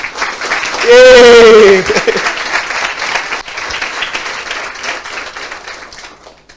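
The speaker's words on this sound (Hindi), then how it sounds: "आइए खुद के लिए ताली बजाइए" A church congregation bursts into loud, sustained applause, opening with a raised voice calling out over the first clapping before the crowd's dense clapping carries on alone.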